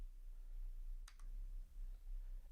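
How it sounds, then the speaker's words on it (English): A double click from a computer mouse, quick and close, sitting alone against a low steady hum. "So I'm going to click here."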